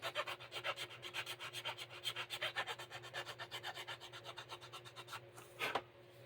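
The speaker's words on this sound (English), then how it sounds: "You can sand through the tape" Sandpaper rubs back and forth along a taped guide on a Pacer build in a quick, even rhythm of about thirty close, scratchy strokes, slowing near the end.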